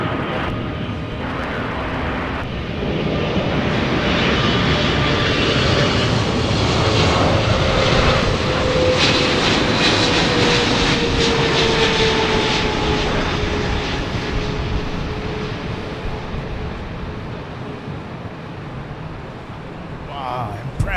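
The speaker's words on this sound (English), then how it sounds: "impressive sound by the GE90s" A jet airliner powered by GE90 engines roars at LAX airport in a loud, sustained drone for about twenty seconds, with a slowly gliding whine riding over the broad rumble.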